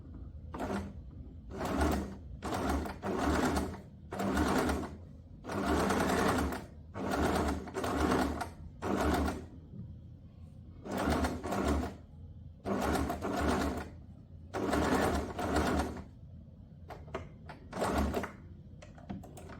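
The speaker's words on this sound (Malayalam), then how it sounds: "ആദ്യം ഒരു സാധാരണ തുണിയിൽ വെച്ച് നോക്കി ഒന്ന് സാമ്പിൾ തയ്ച്ച് നോക്കിയിട്ട് വേണം നല്ല തുണിയിലൊക്കെ തയ്ക്കാനായിട്ട്" A sewing machine stitches a shell tuck sample on plain cloth in repeated bursts of whirring, each lasting about a second with short pauses between, loud and close with no talk.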